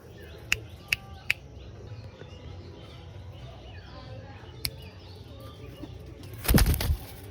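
A pair of pigeons released together burst into a loud, close flurry of wing flaps near the end, after a few sharp clicks over quiet background.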